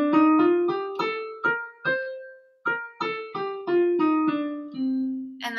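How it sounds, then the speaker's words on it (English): A melodic line stepping through the Dorian mode, about a dozen distinct plucked or struck notes in a steady rhythm with short gaps, each note decaying quickly, clear and close with no voices. "But then you have this mode called the Dorian mode, which is kind of minor, but it sounds like this."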